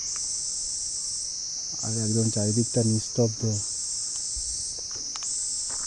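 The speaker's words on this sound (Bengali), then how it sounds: "চারিদিকে ঝিঝি পোকার ডাক" Crickets chirp in a continuous, shrill, even drone in a pine forest near Kurseong, steady in the background while a person speaks briefly over it.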